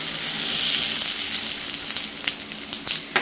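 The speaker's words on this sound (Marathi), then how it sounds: "गरम तेल केलेले आहे ते ओतून घेते" Two spoonfuls of smoking-hot oil poured into spiced flour dough for chakli, giving a loud, steady frying sizzle and hiss that breaks into sharper crackles and pops toward the end.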